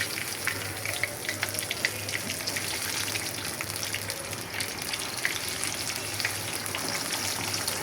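Besan-coated fritters fry in hot oil for an iftar snack, a steady dense sizzle with crackling pops throughout, close and even, no voices.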